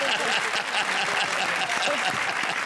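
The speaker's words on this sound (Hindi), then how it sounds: "जोरदार तालियां" Studio audience on a comedy show bursts into steady, dense applause, sustained and loud throughout with no let-up, a faint murmur of voices mixed in.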